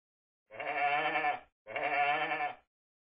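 A sheep bleats twice, two wavering, quavering calls of similar length separated by a brief pause, fairly soft and alone.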